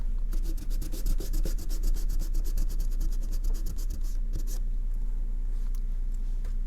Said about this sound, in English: now I take my malleable eraser, and I'm going to erase the masking fluid.